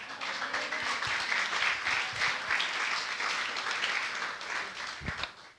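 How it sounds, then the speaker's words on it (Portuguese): A church congregation claps steadily together for several seconds, a dense, even wash of hands that carries on without talk. "Palmas ao Espírito Santo."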